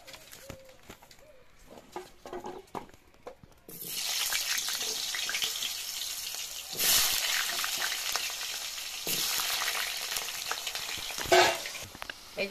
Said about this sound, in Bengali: তেল দিয়েছি এবার আলু কটা ভেজে নেবো